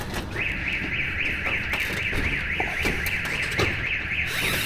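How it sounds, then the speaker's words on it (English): A car alarm goes off on a Rio de Janeiro street, its loud warbling siren cycling steadily up and down without a break for several seconds. "God damn. It's alarm,"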